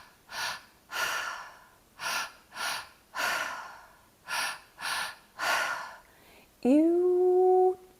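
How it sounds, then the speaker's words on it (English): Deep rhythmic breathing during a guided breathwork session: about eight long, airy inhales and exhales in steady succession, close and fairly quiet, ending in a sustained tonal hum or chime. "breathing."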